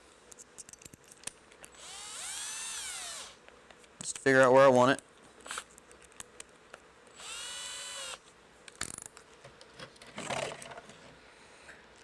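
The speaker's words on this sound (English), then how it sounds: "at first I'm going to drill a pilot hole" A drill bores a pilot hole in a 1998-to-present Dodge fuel module, in several short bursts that rise and fall in pitch, with clicks and handling noises between them and someone talking.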